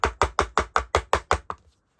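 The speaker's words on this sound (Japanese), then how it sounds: "はい、トントンして、気泡が潰れたらペタン。" A mold filled with chocolate is tapped against a table to pop air bubbles, giving eight quick, evenly spaced knocks that fade into a faint final tap, with no talking.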